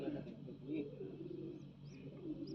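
Pigeons from a Punjabi pigeon-keeper's loft, including a bred racing bird, coo in low, repeated throaty bursts close by, over a steady background hum and under someone talking.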